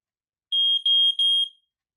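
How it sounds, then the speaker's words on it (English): An old household smoke alarm sounds off during a monthly test: a piercing, high-pitched electronic tone about one second long, broken into three close pulses, loud and alone against silence. "Right now, this our old smoke alarm."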